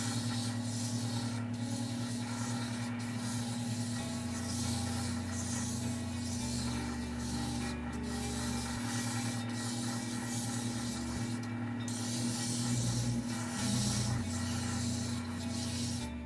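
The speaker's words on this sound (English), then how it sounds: "You're going to just need to sand the edges by hand." Leather sandal edges sanded by hand, a steady continuous rubbing and scraping that runs the whole stretch with no talking over it and a low hum underneath.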